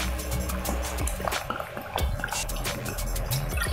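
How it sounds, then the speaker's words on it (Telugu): Water filling empty glass liquor bottles at home, a continuous busy trickling and gurgling heard close up without speech. "ఇదిగోండి గాజు బాటలు, మా అప్పు తాగేసిన మందు బాటలు, ఇలా వాటర్ పట్టి పెడతానమాట."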